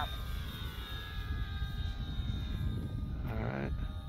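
Dynam FW 190 RC model airplane flying with its landing gear retracted, a steady electric motor drone heard at a distance throughout, with faint background noise.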